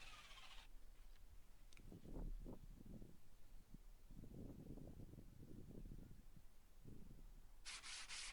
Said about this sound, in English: I could give them a good sanding down to make the tops nice and smooth